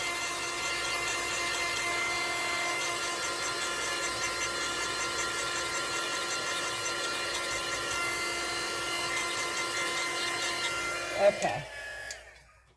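Dryer blowing steadily over resin art, a constant close whirring hiss with a steady tonal whine that cuts off abruptly near the end; a brief spoken word occurs.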